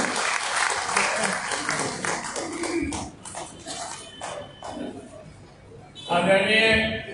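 Clapping from a meeting audience welcoming a speaker, mixed with dog-like whimpering yips that come and go, fading midway, then a louder burst of sound near the end.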